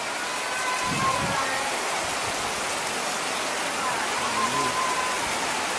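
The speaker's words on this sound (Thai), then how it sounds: "ตอนนี้นะครับฝนตก ฝนตกหนักมากฝนตกหนักมากนะครับ" Heavy rain falling while riding a motorcycle near Ayutthaya, a dense steady wash of rain noise with faint low rumbles underneath, no talk in the clip.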